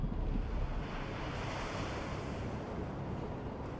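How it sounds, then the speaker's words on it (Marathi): Ocean waves wash steadily onto the shore in the video game Dead Island 2. The surf makes a continuous, even roar mixed with wind-like hiss, and no voices are heard. "समुद्राकाठी आलंय असं वाटतंय मला"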